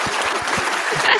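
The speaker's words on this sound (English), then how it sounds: "Big round of applause" A crowd applauds steadily for about a second, a dense wash of clapping with a few low thumps mixed in.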